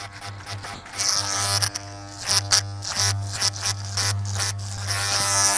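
Electric hair clippers buzz steadily while someone shaves their own head, a close, loud hum broken by short scraping passes and brief dips as the blade moves over the scalp.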